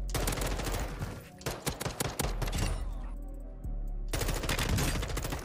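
Rapid bursts of automatic gunfire in the video game Warzone 2, loud and close, with a brief pause before another sustained volley.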